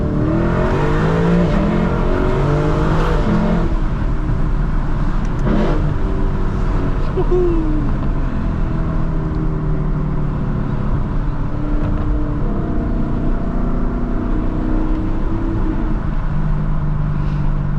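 A Lexus LC 500 engine revs up close and loud, pitch rising through several gear pulls as it accelerates, with someone talking over it early on.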